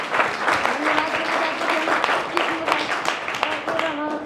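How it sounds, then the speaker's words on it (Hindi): Audience clapping at a Navodaya mock-test event held by a school, a lively, close burst of applause with voices talking over it throughout. "चलिए इनके सर के लिए भी तालियां हो जाए"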